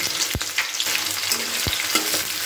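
Large chunks of onion frying in hot oil in a wok with whole cumin seeds and bay leaves, a loud, steady sizzle broken by a few sharp scrapes of stirring, no voices.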